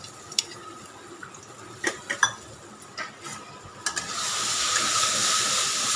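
Garlic and black pepper frying in a pan, a soft sizzle with a few scattered clinks of a utensil against the pan, swelling into a louder, steady hiss of frying near the end.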